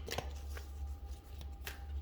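Tarot cards being shuffled by hand, soft repeated riffling and flicking bursts at close range against a steady low room hum, no talking.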